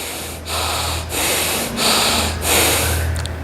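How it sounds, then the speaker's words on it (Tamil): Deep, slow meditation breaths drawn in and let out through the nose, about four loud, close airy rushes in an even rhythm with brief pauses between them. "ஒரு மூன்று முறை மூச்சை உள்ளெழுத்து மூச்சை விளைய விடுங்க"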